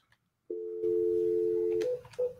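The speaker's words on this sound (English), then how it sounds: "placing phone calls over and over and over again" Telephone line tones from a sales caller placing repeated calls: silence, then a steady, fairly loud dial tone holding for over a second before breaking into shorter tones as the number is dialed.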